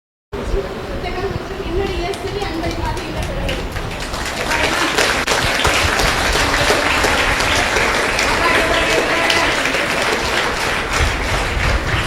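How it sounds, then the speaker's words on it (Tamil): A full hall of people applauds a girl who recited Thirukkural, sustained loud clapping that swells after a few seconds and holds steady, with light crowd chatter mixed in. "அரங்கம் நிறைந்த கரவொலியோடு சிறுமி செல்வராணி அவர்களுக்கு உலக திருக்குறள் முற்றுவதல் இயக்கம் தனது பாராட்டுதலை தெரிவித்து மகிழ்கிறது"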